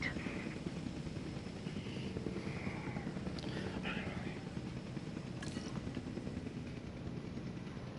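A helicopter airlifts an Albertosaurus in the Jurassic World Evolution 2 game, its steady rotor and engine drone filling the scene continuously, with faint synthetic chirps and game effects layered on top.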